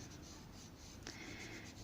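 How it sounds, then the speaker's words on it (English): A colored pencil held flat shades across paper with a steady, soft, dry scratching that runs unbroken and close throughout. "I'm going to hold my pencil flat now for this one."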